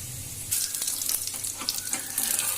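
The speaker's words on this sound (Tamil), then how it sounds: "மீடியம் ஃபிளேம்ல வச்சுக்கிட்டே பொரிச்சு எடுக்கலாம்" A chicken patty shallow-fries in oil over a medium flame, giving a steady close sizzle with crackling pops throughout. No one speaks.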